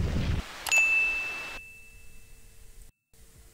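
A bright notification bell dings once, clear and close, with its tone ringing out and fading slowly over a couple of seconds before a brief silence.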